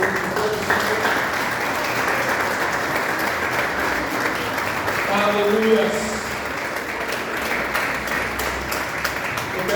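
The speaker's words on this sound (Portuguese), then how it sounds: "Você pode dar uma linda salva de palmas a Deus." A church congregation applauds steadily for nearly ten seconds, a dense, loud wash of clapping with a voice calling out over it.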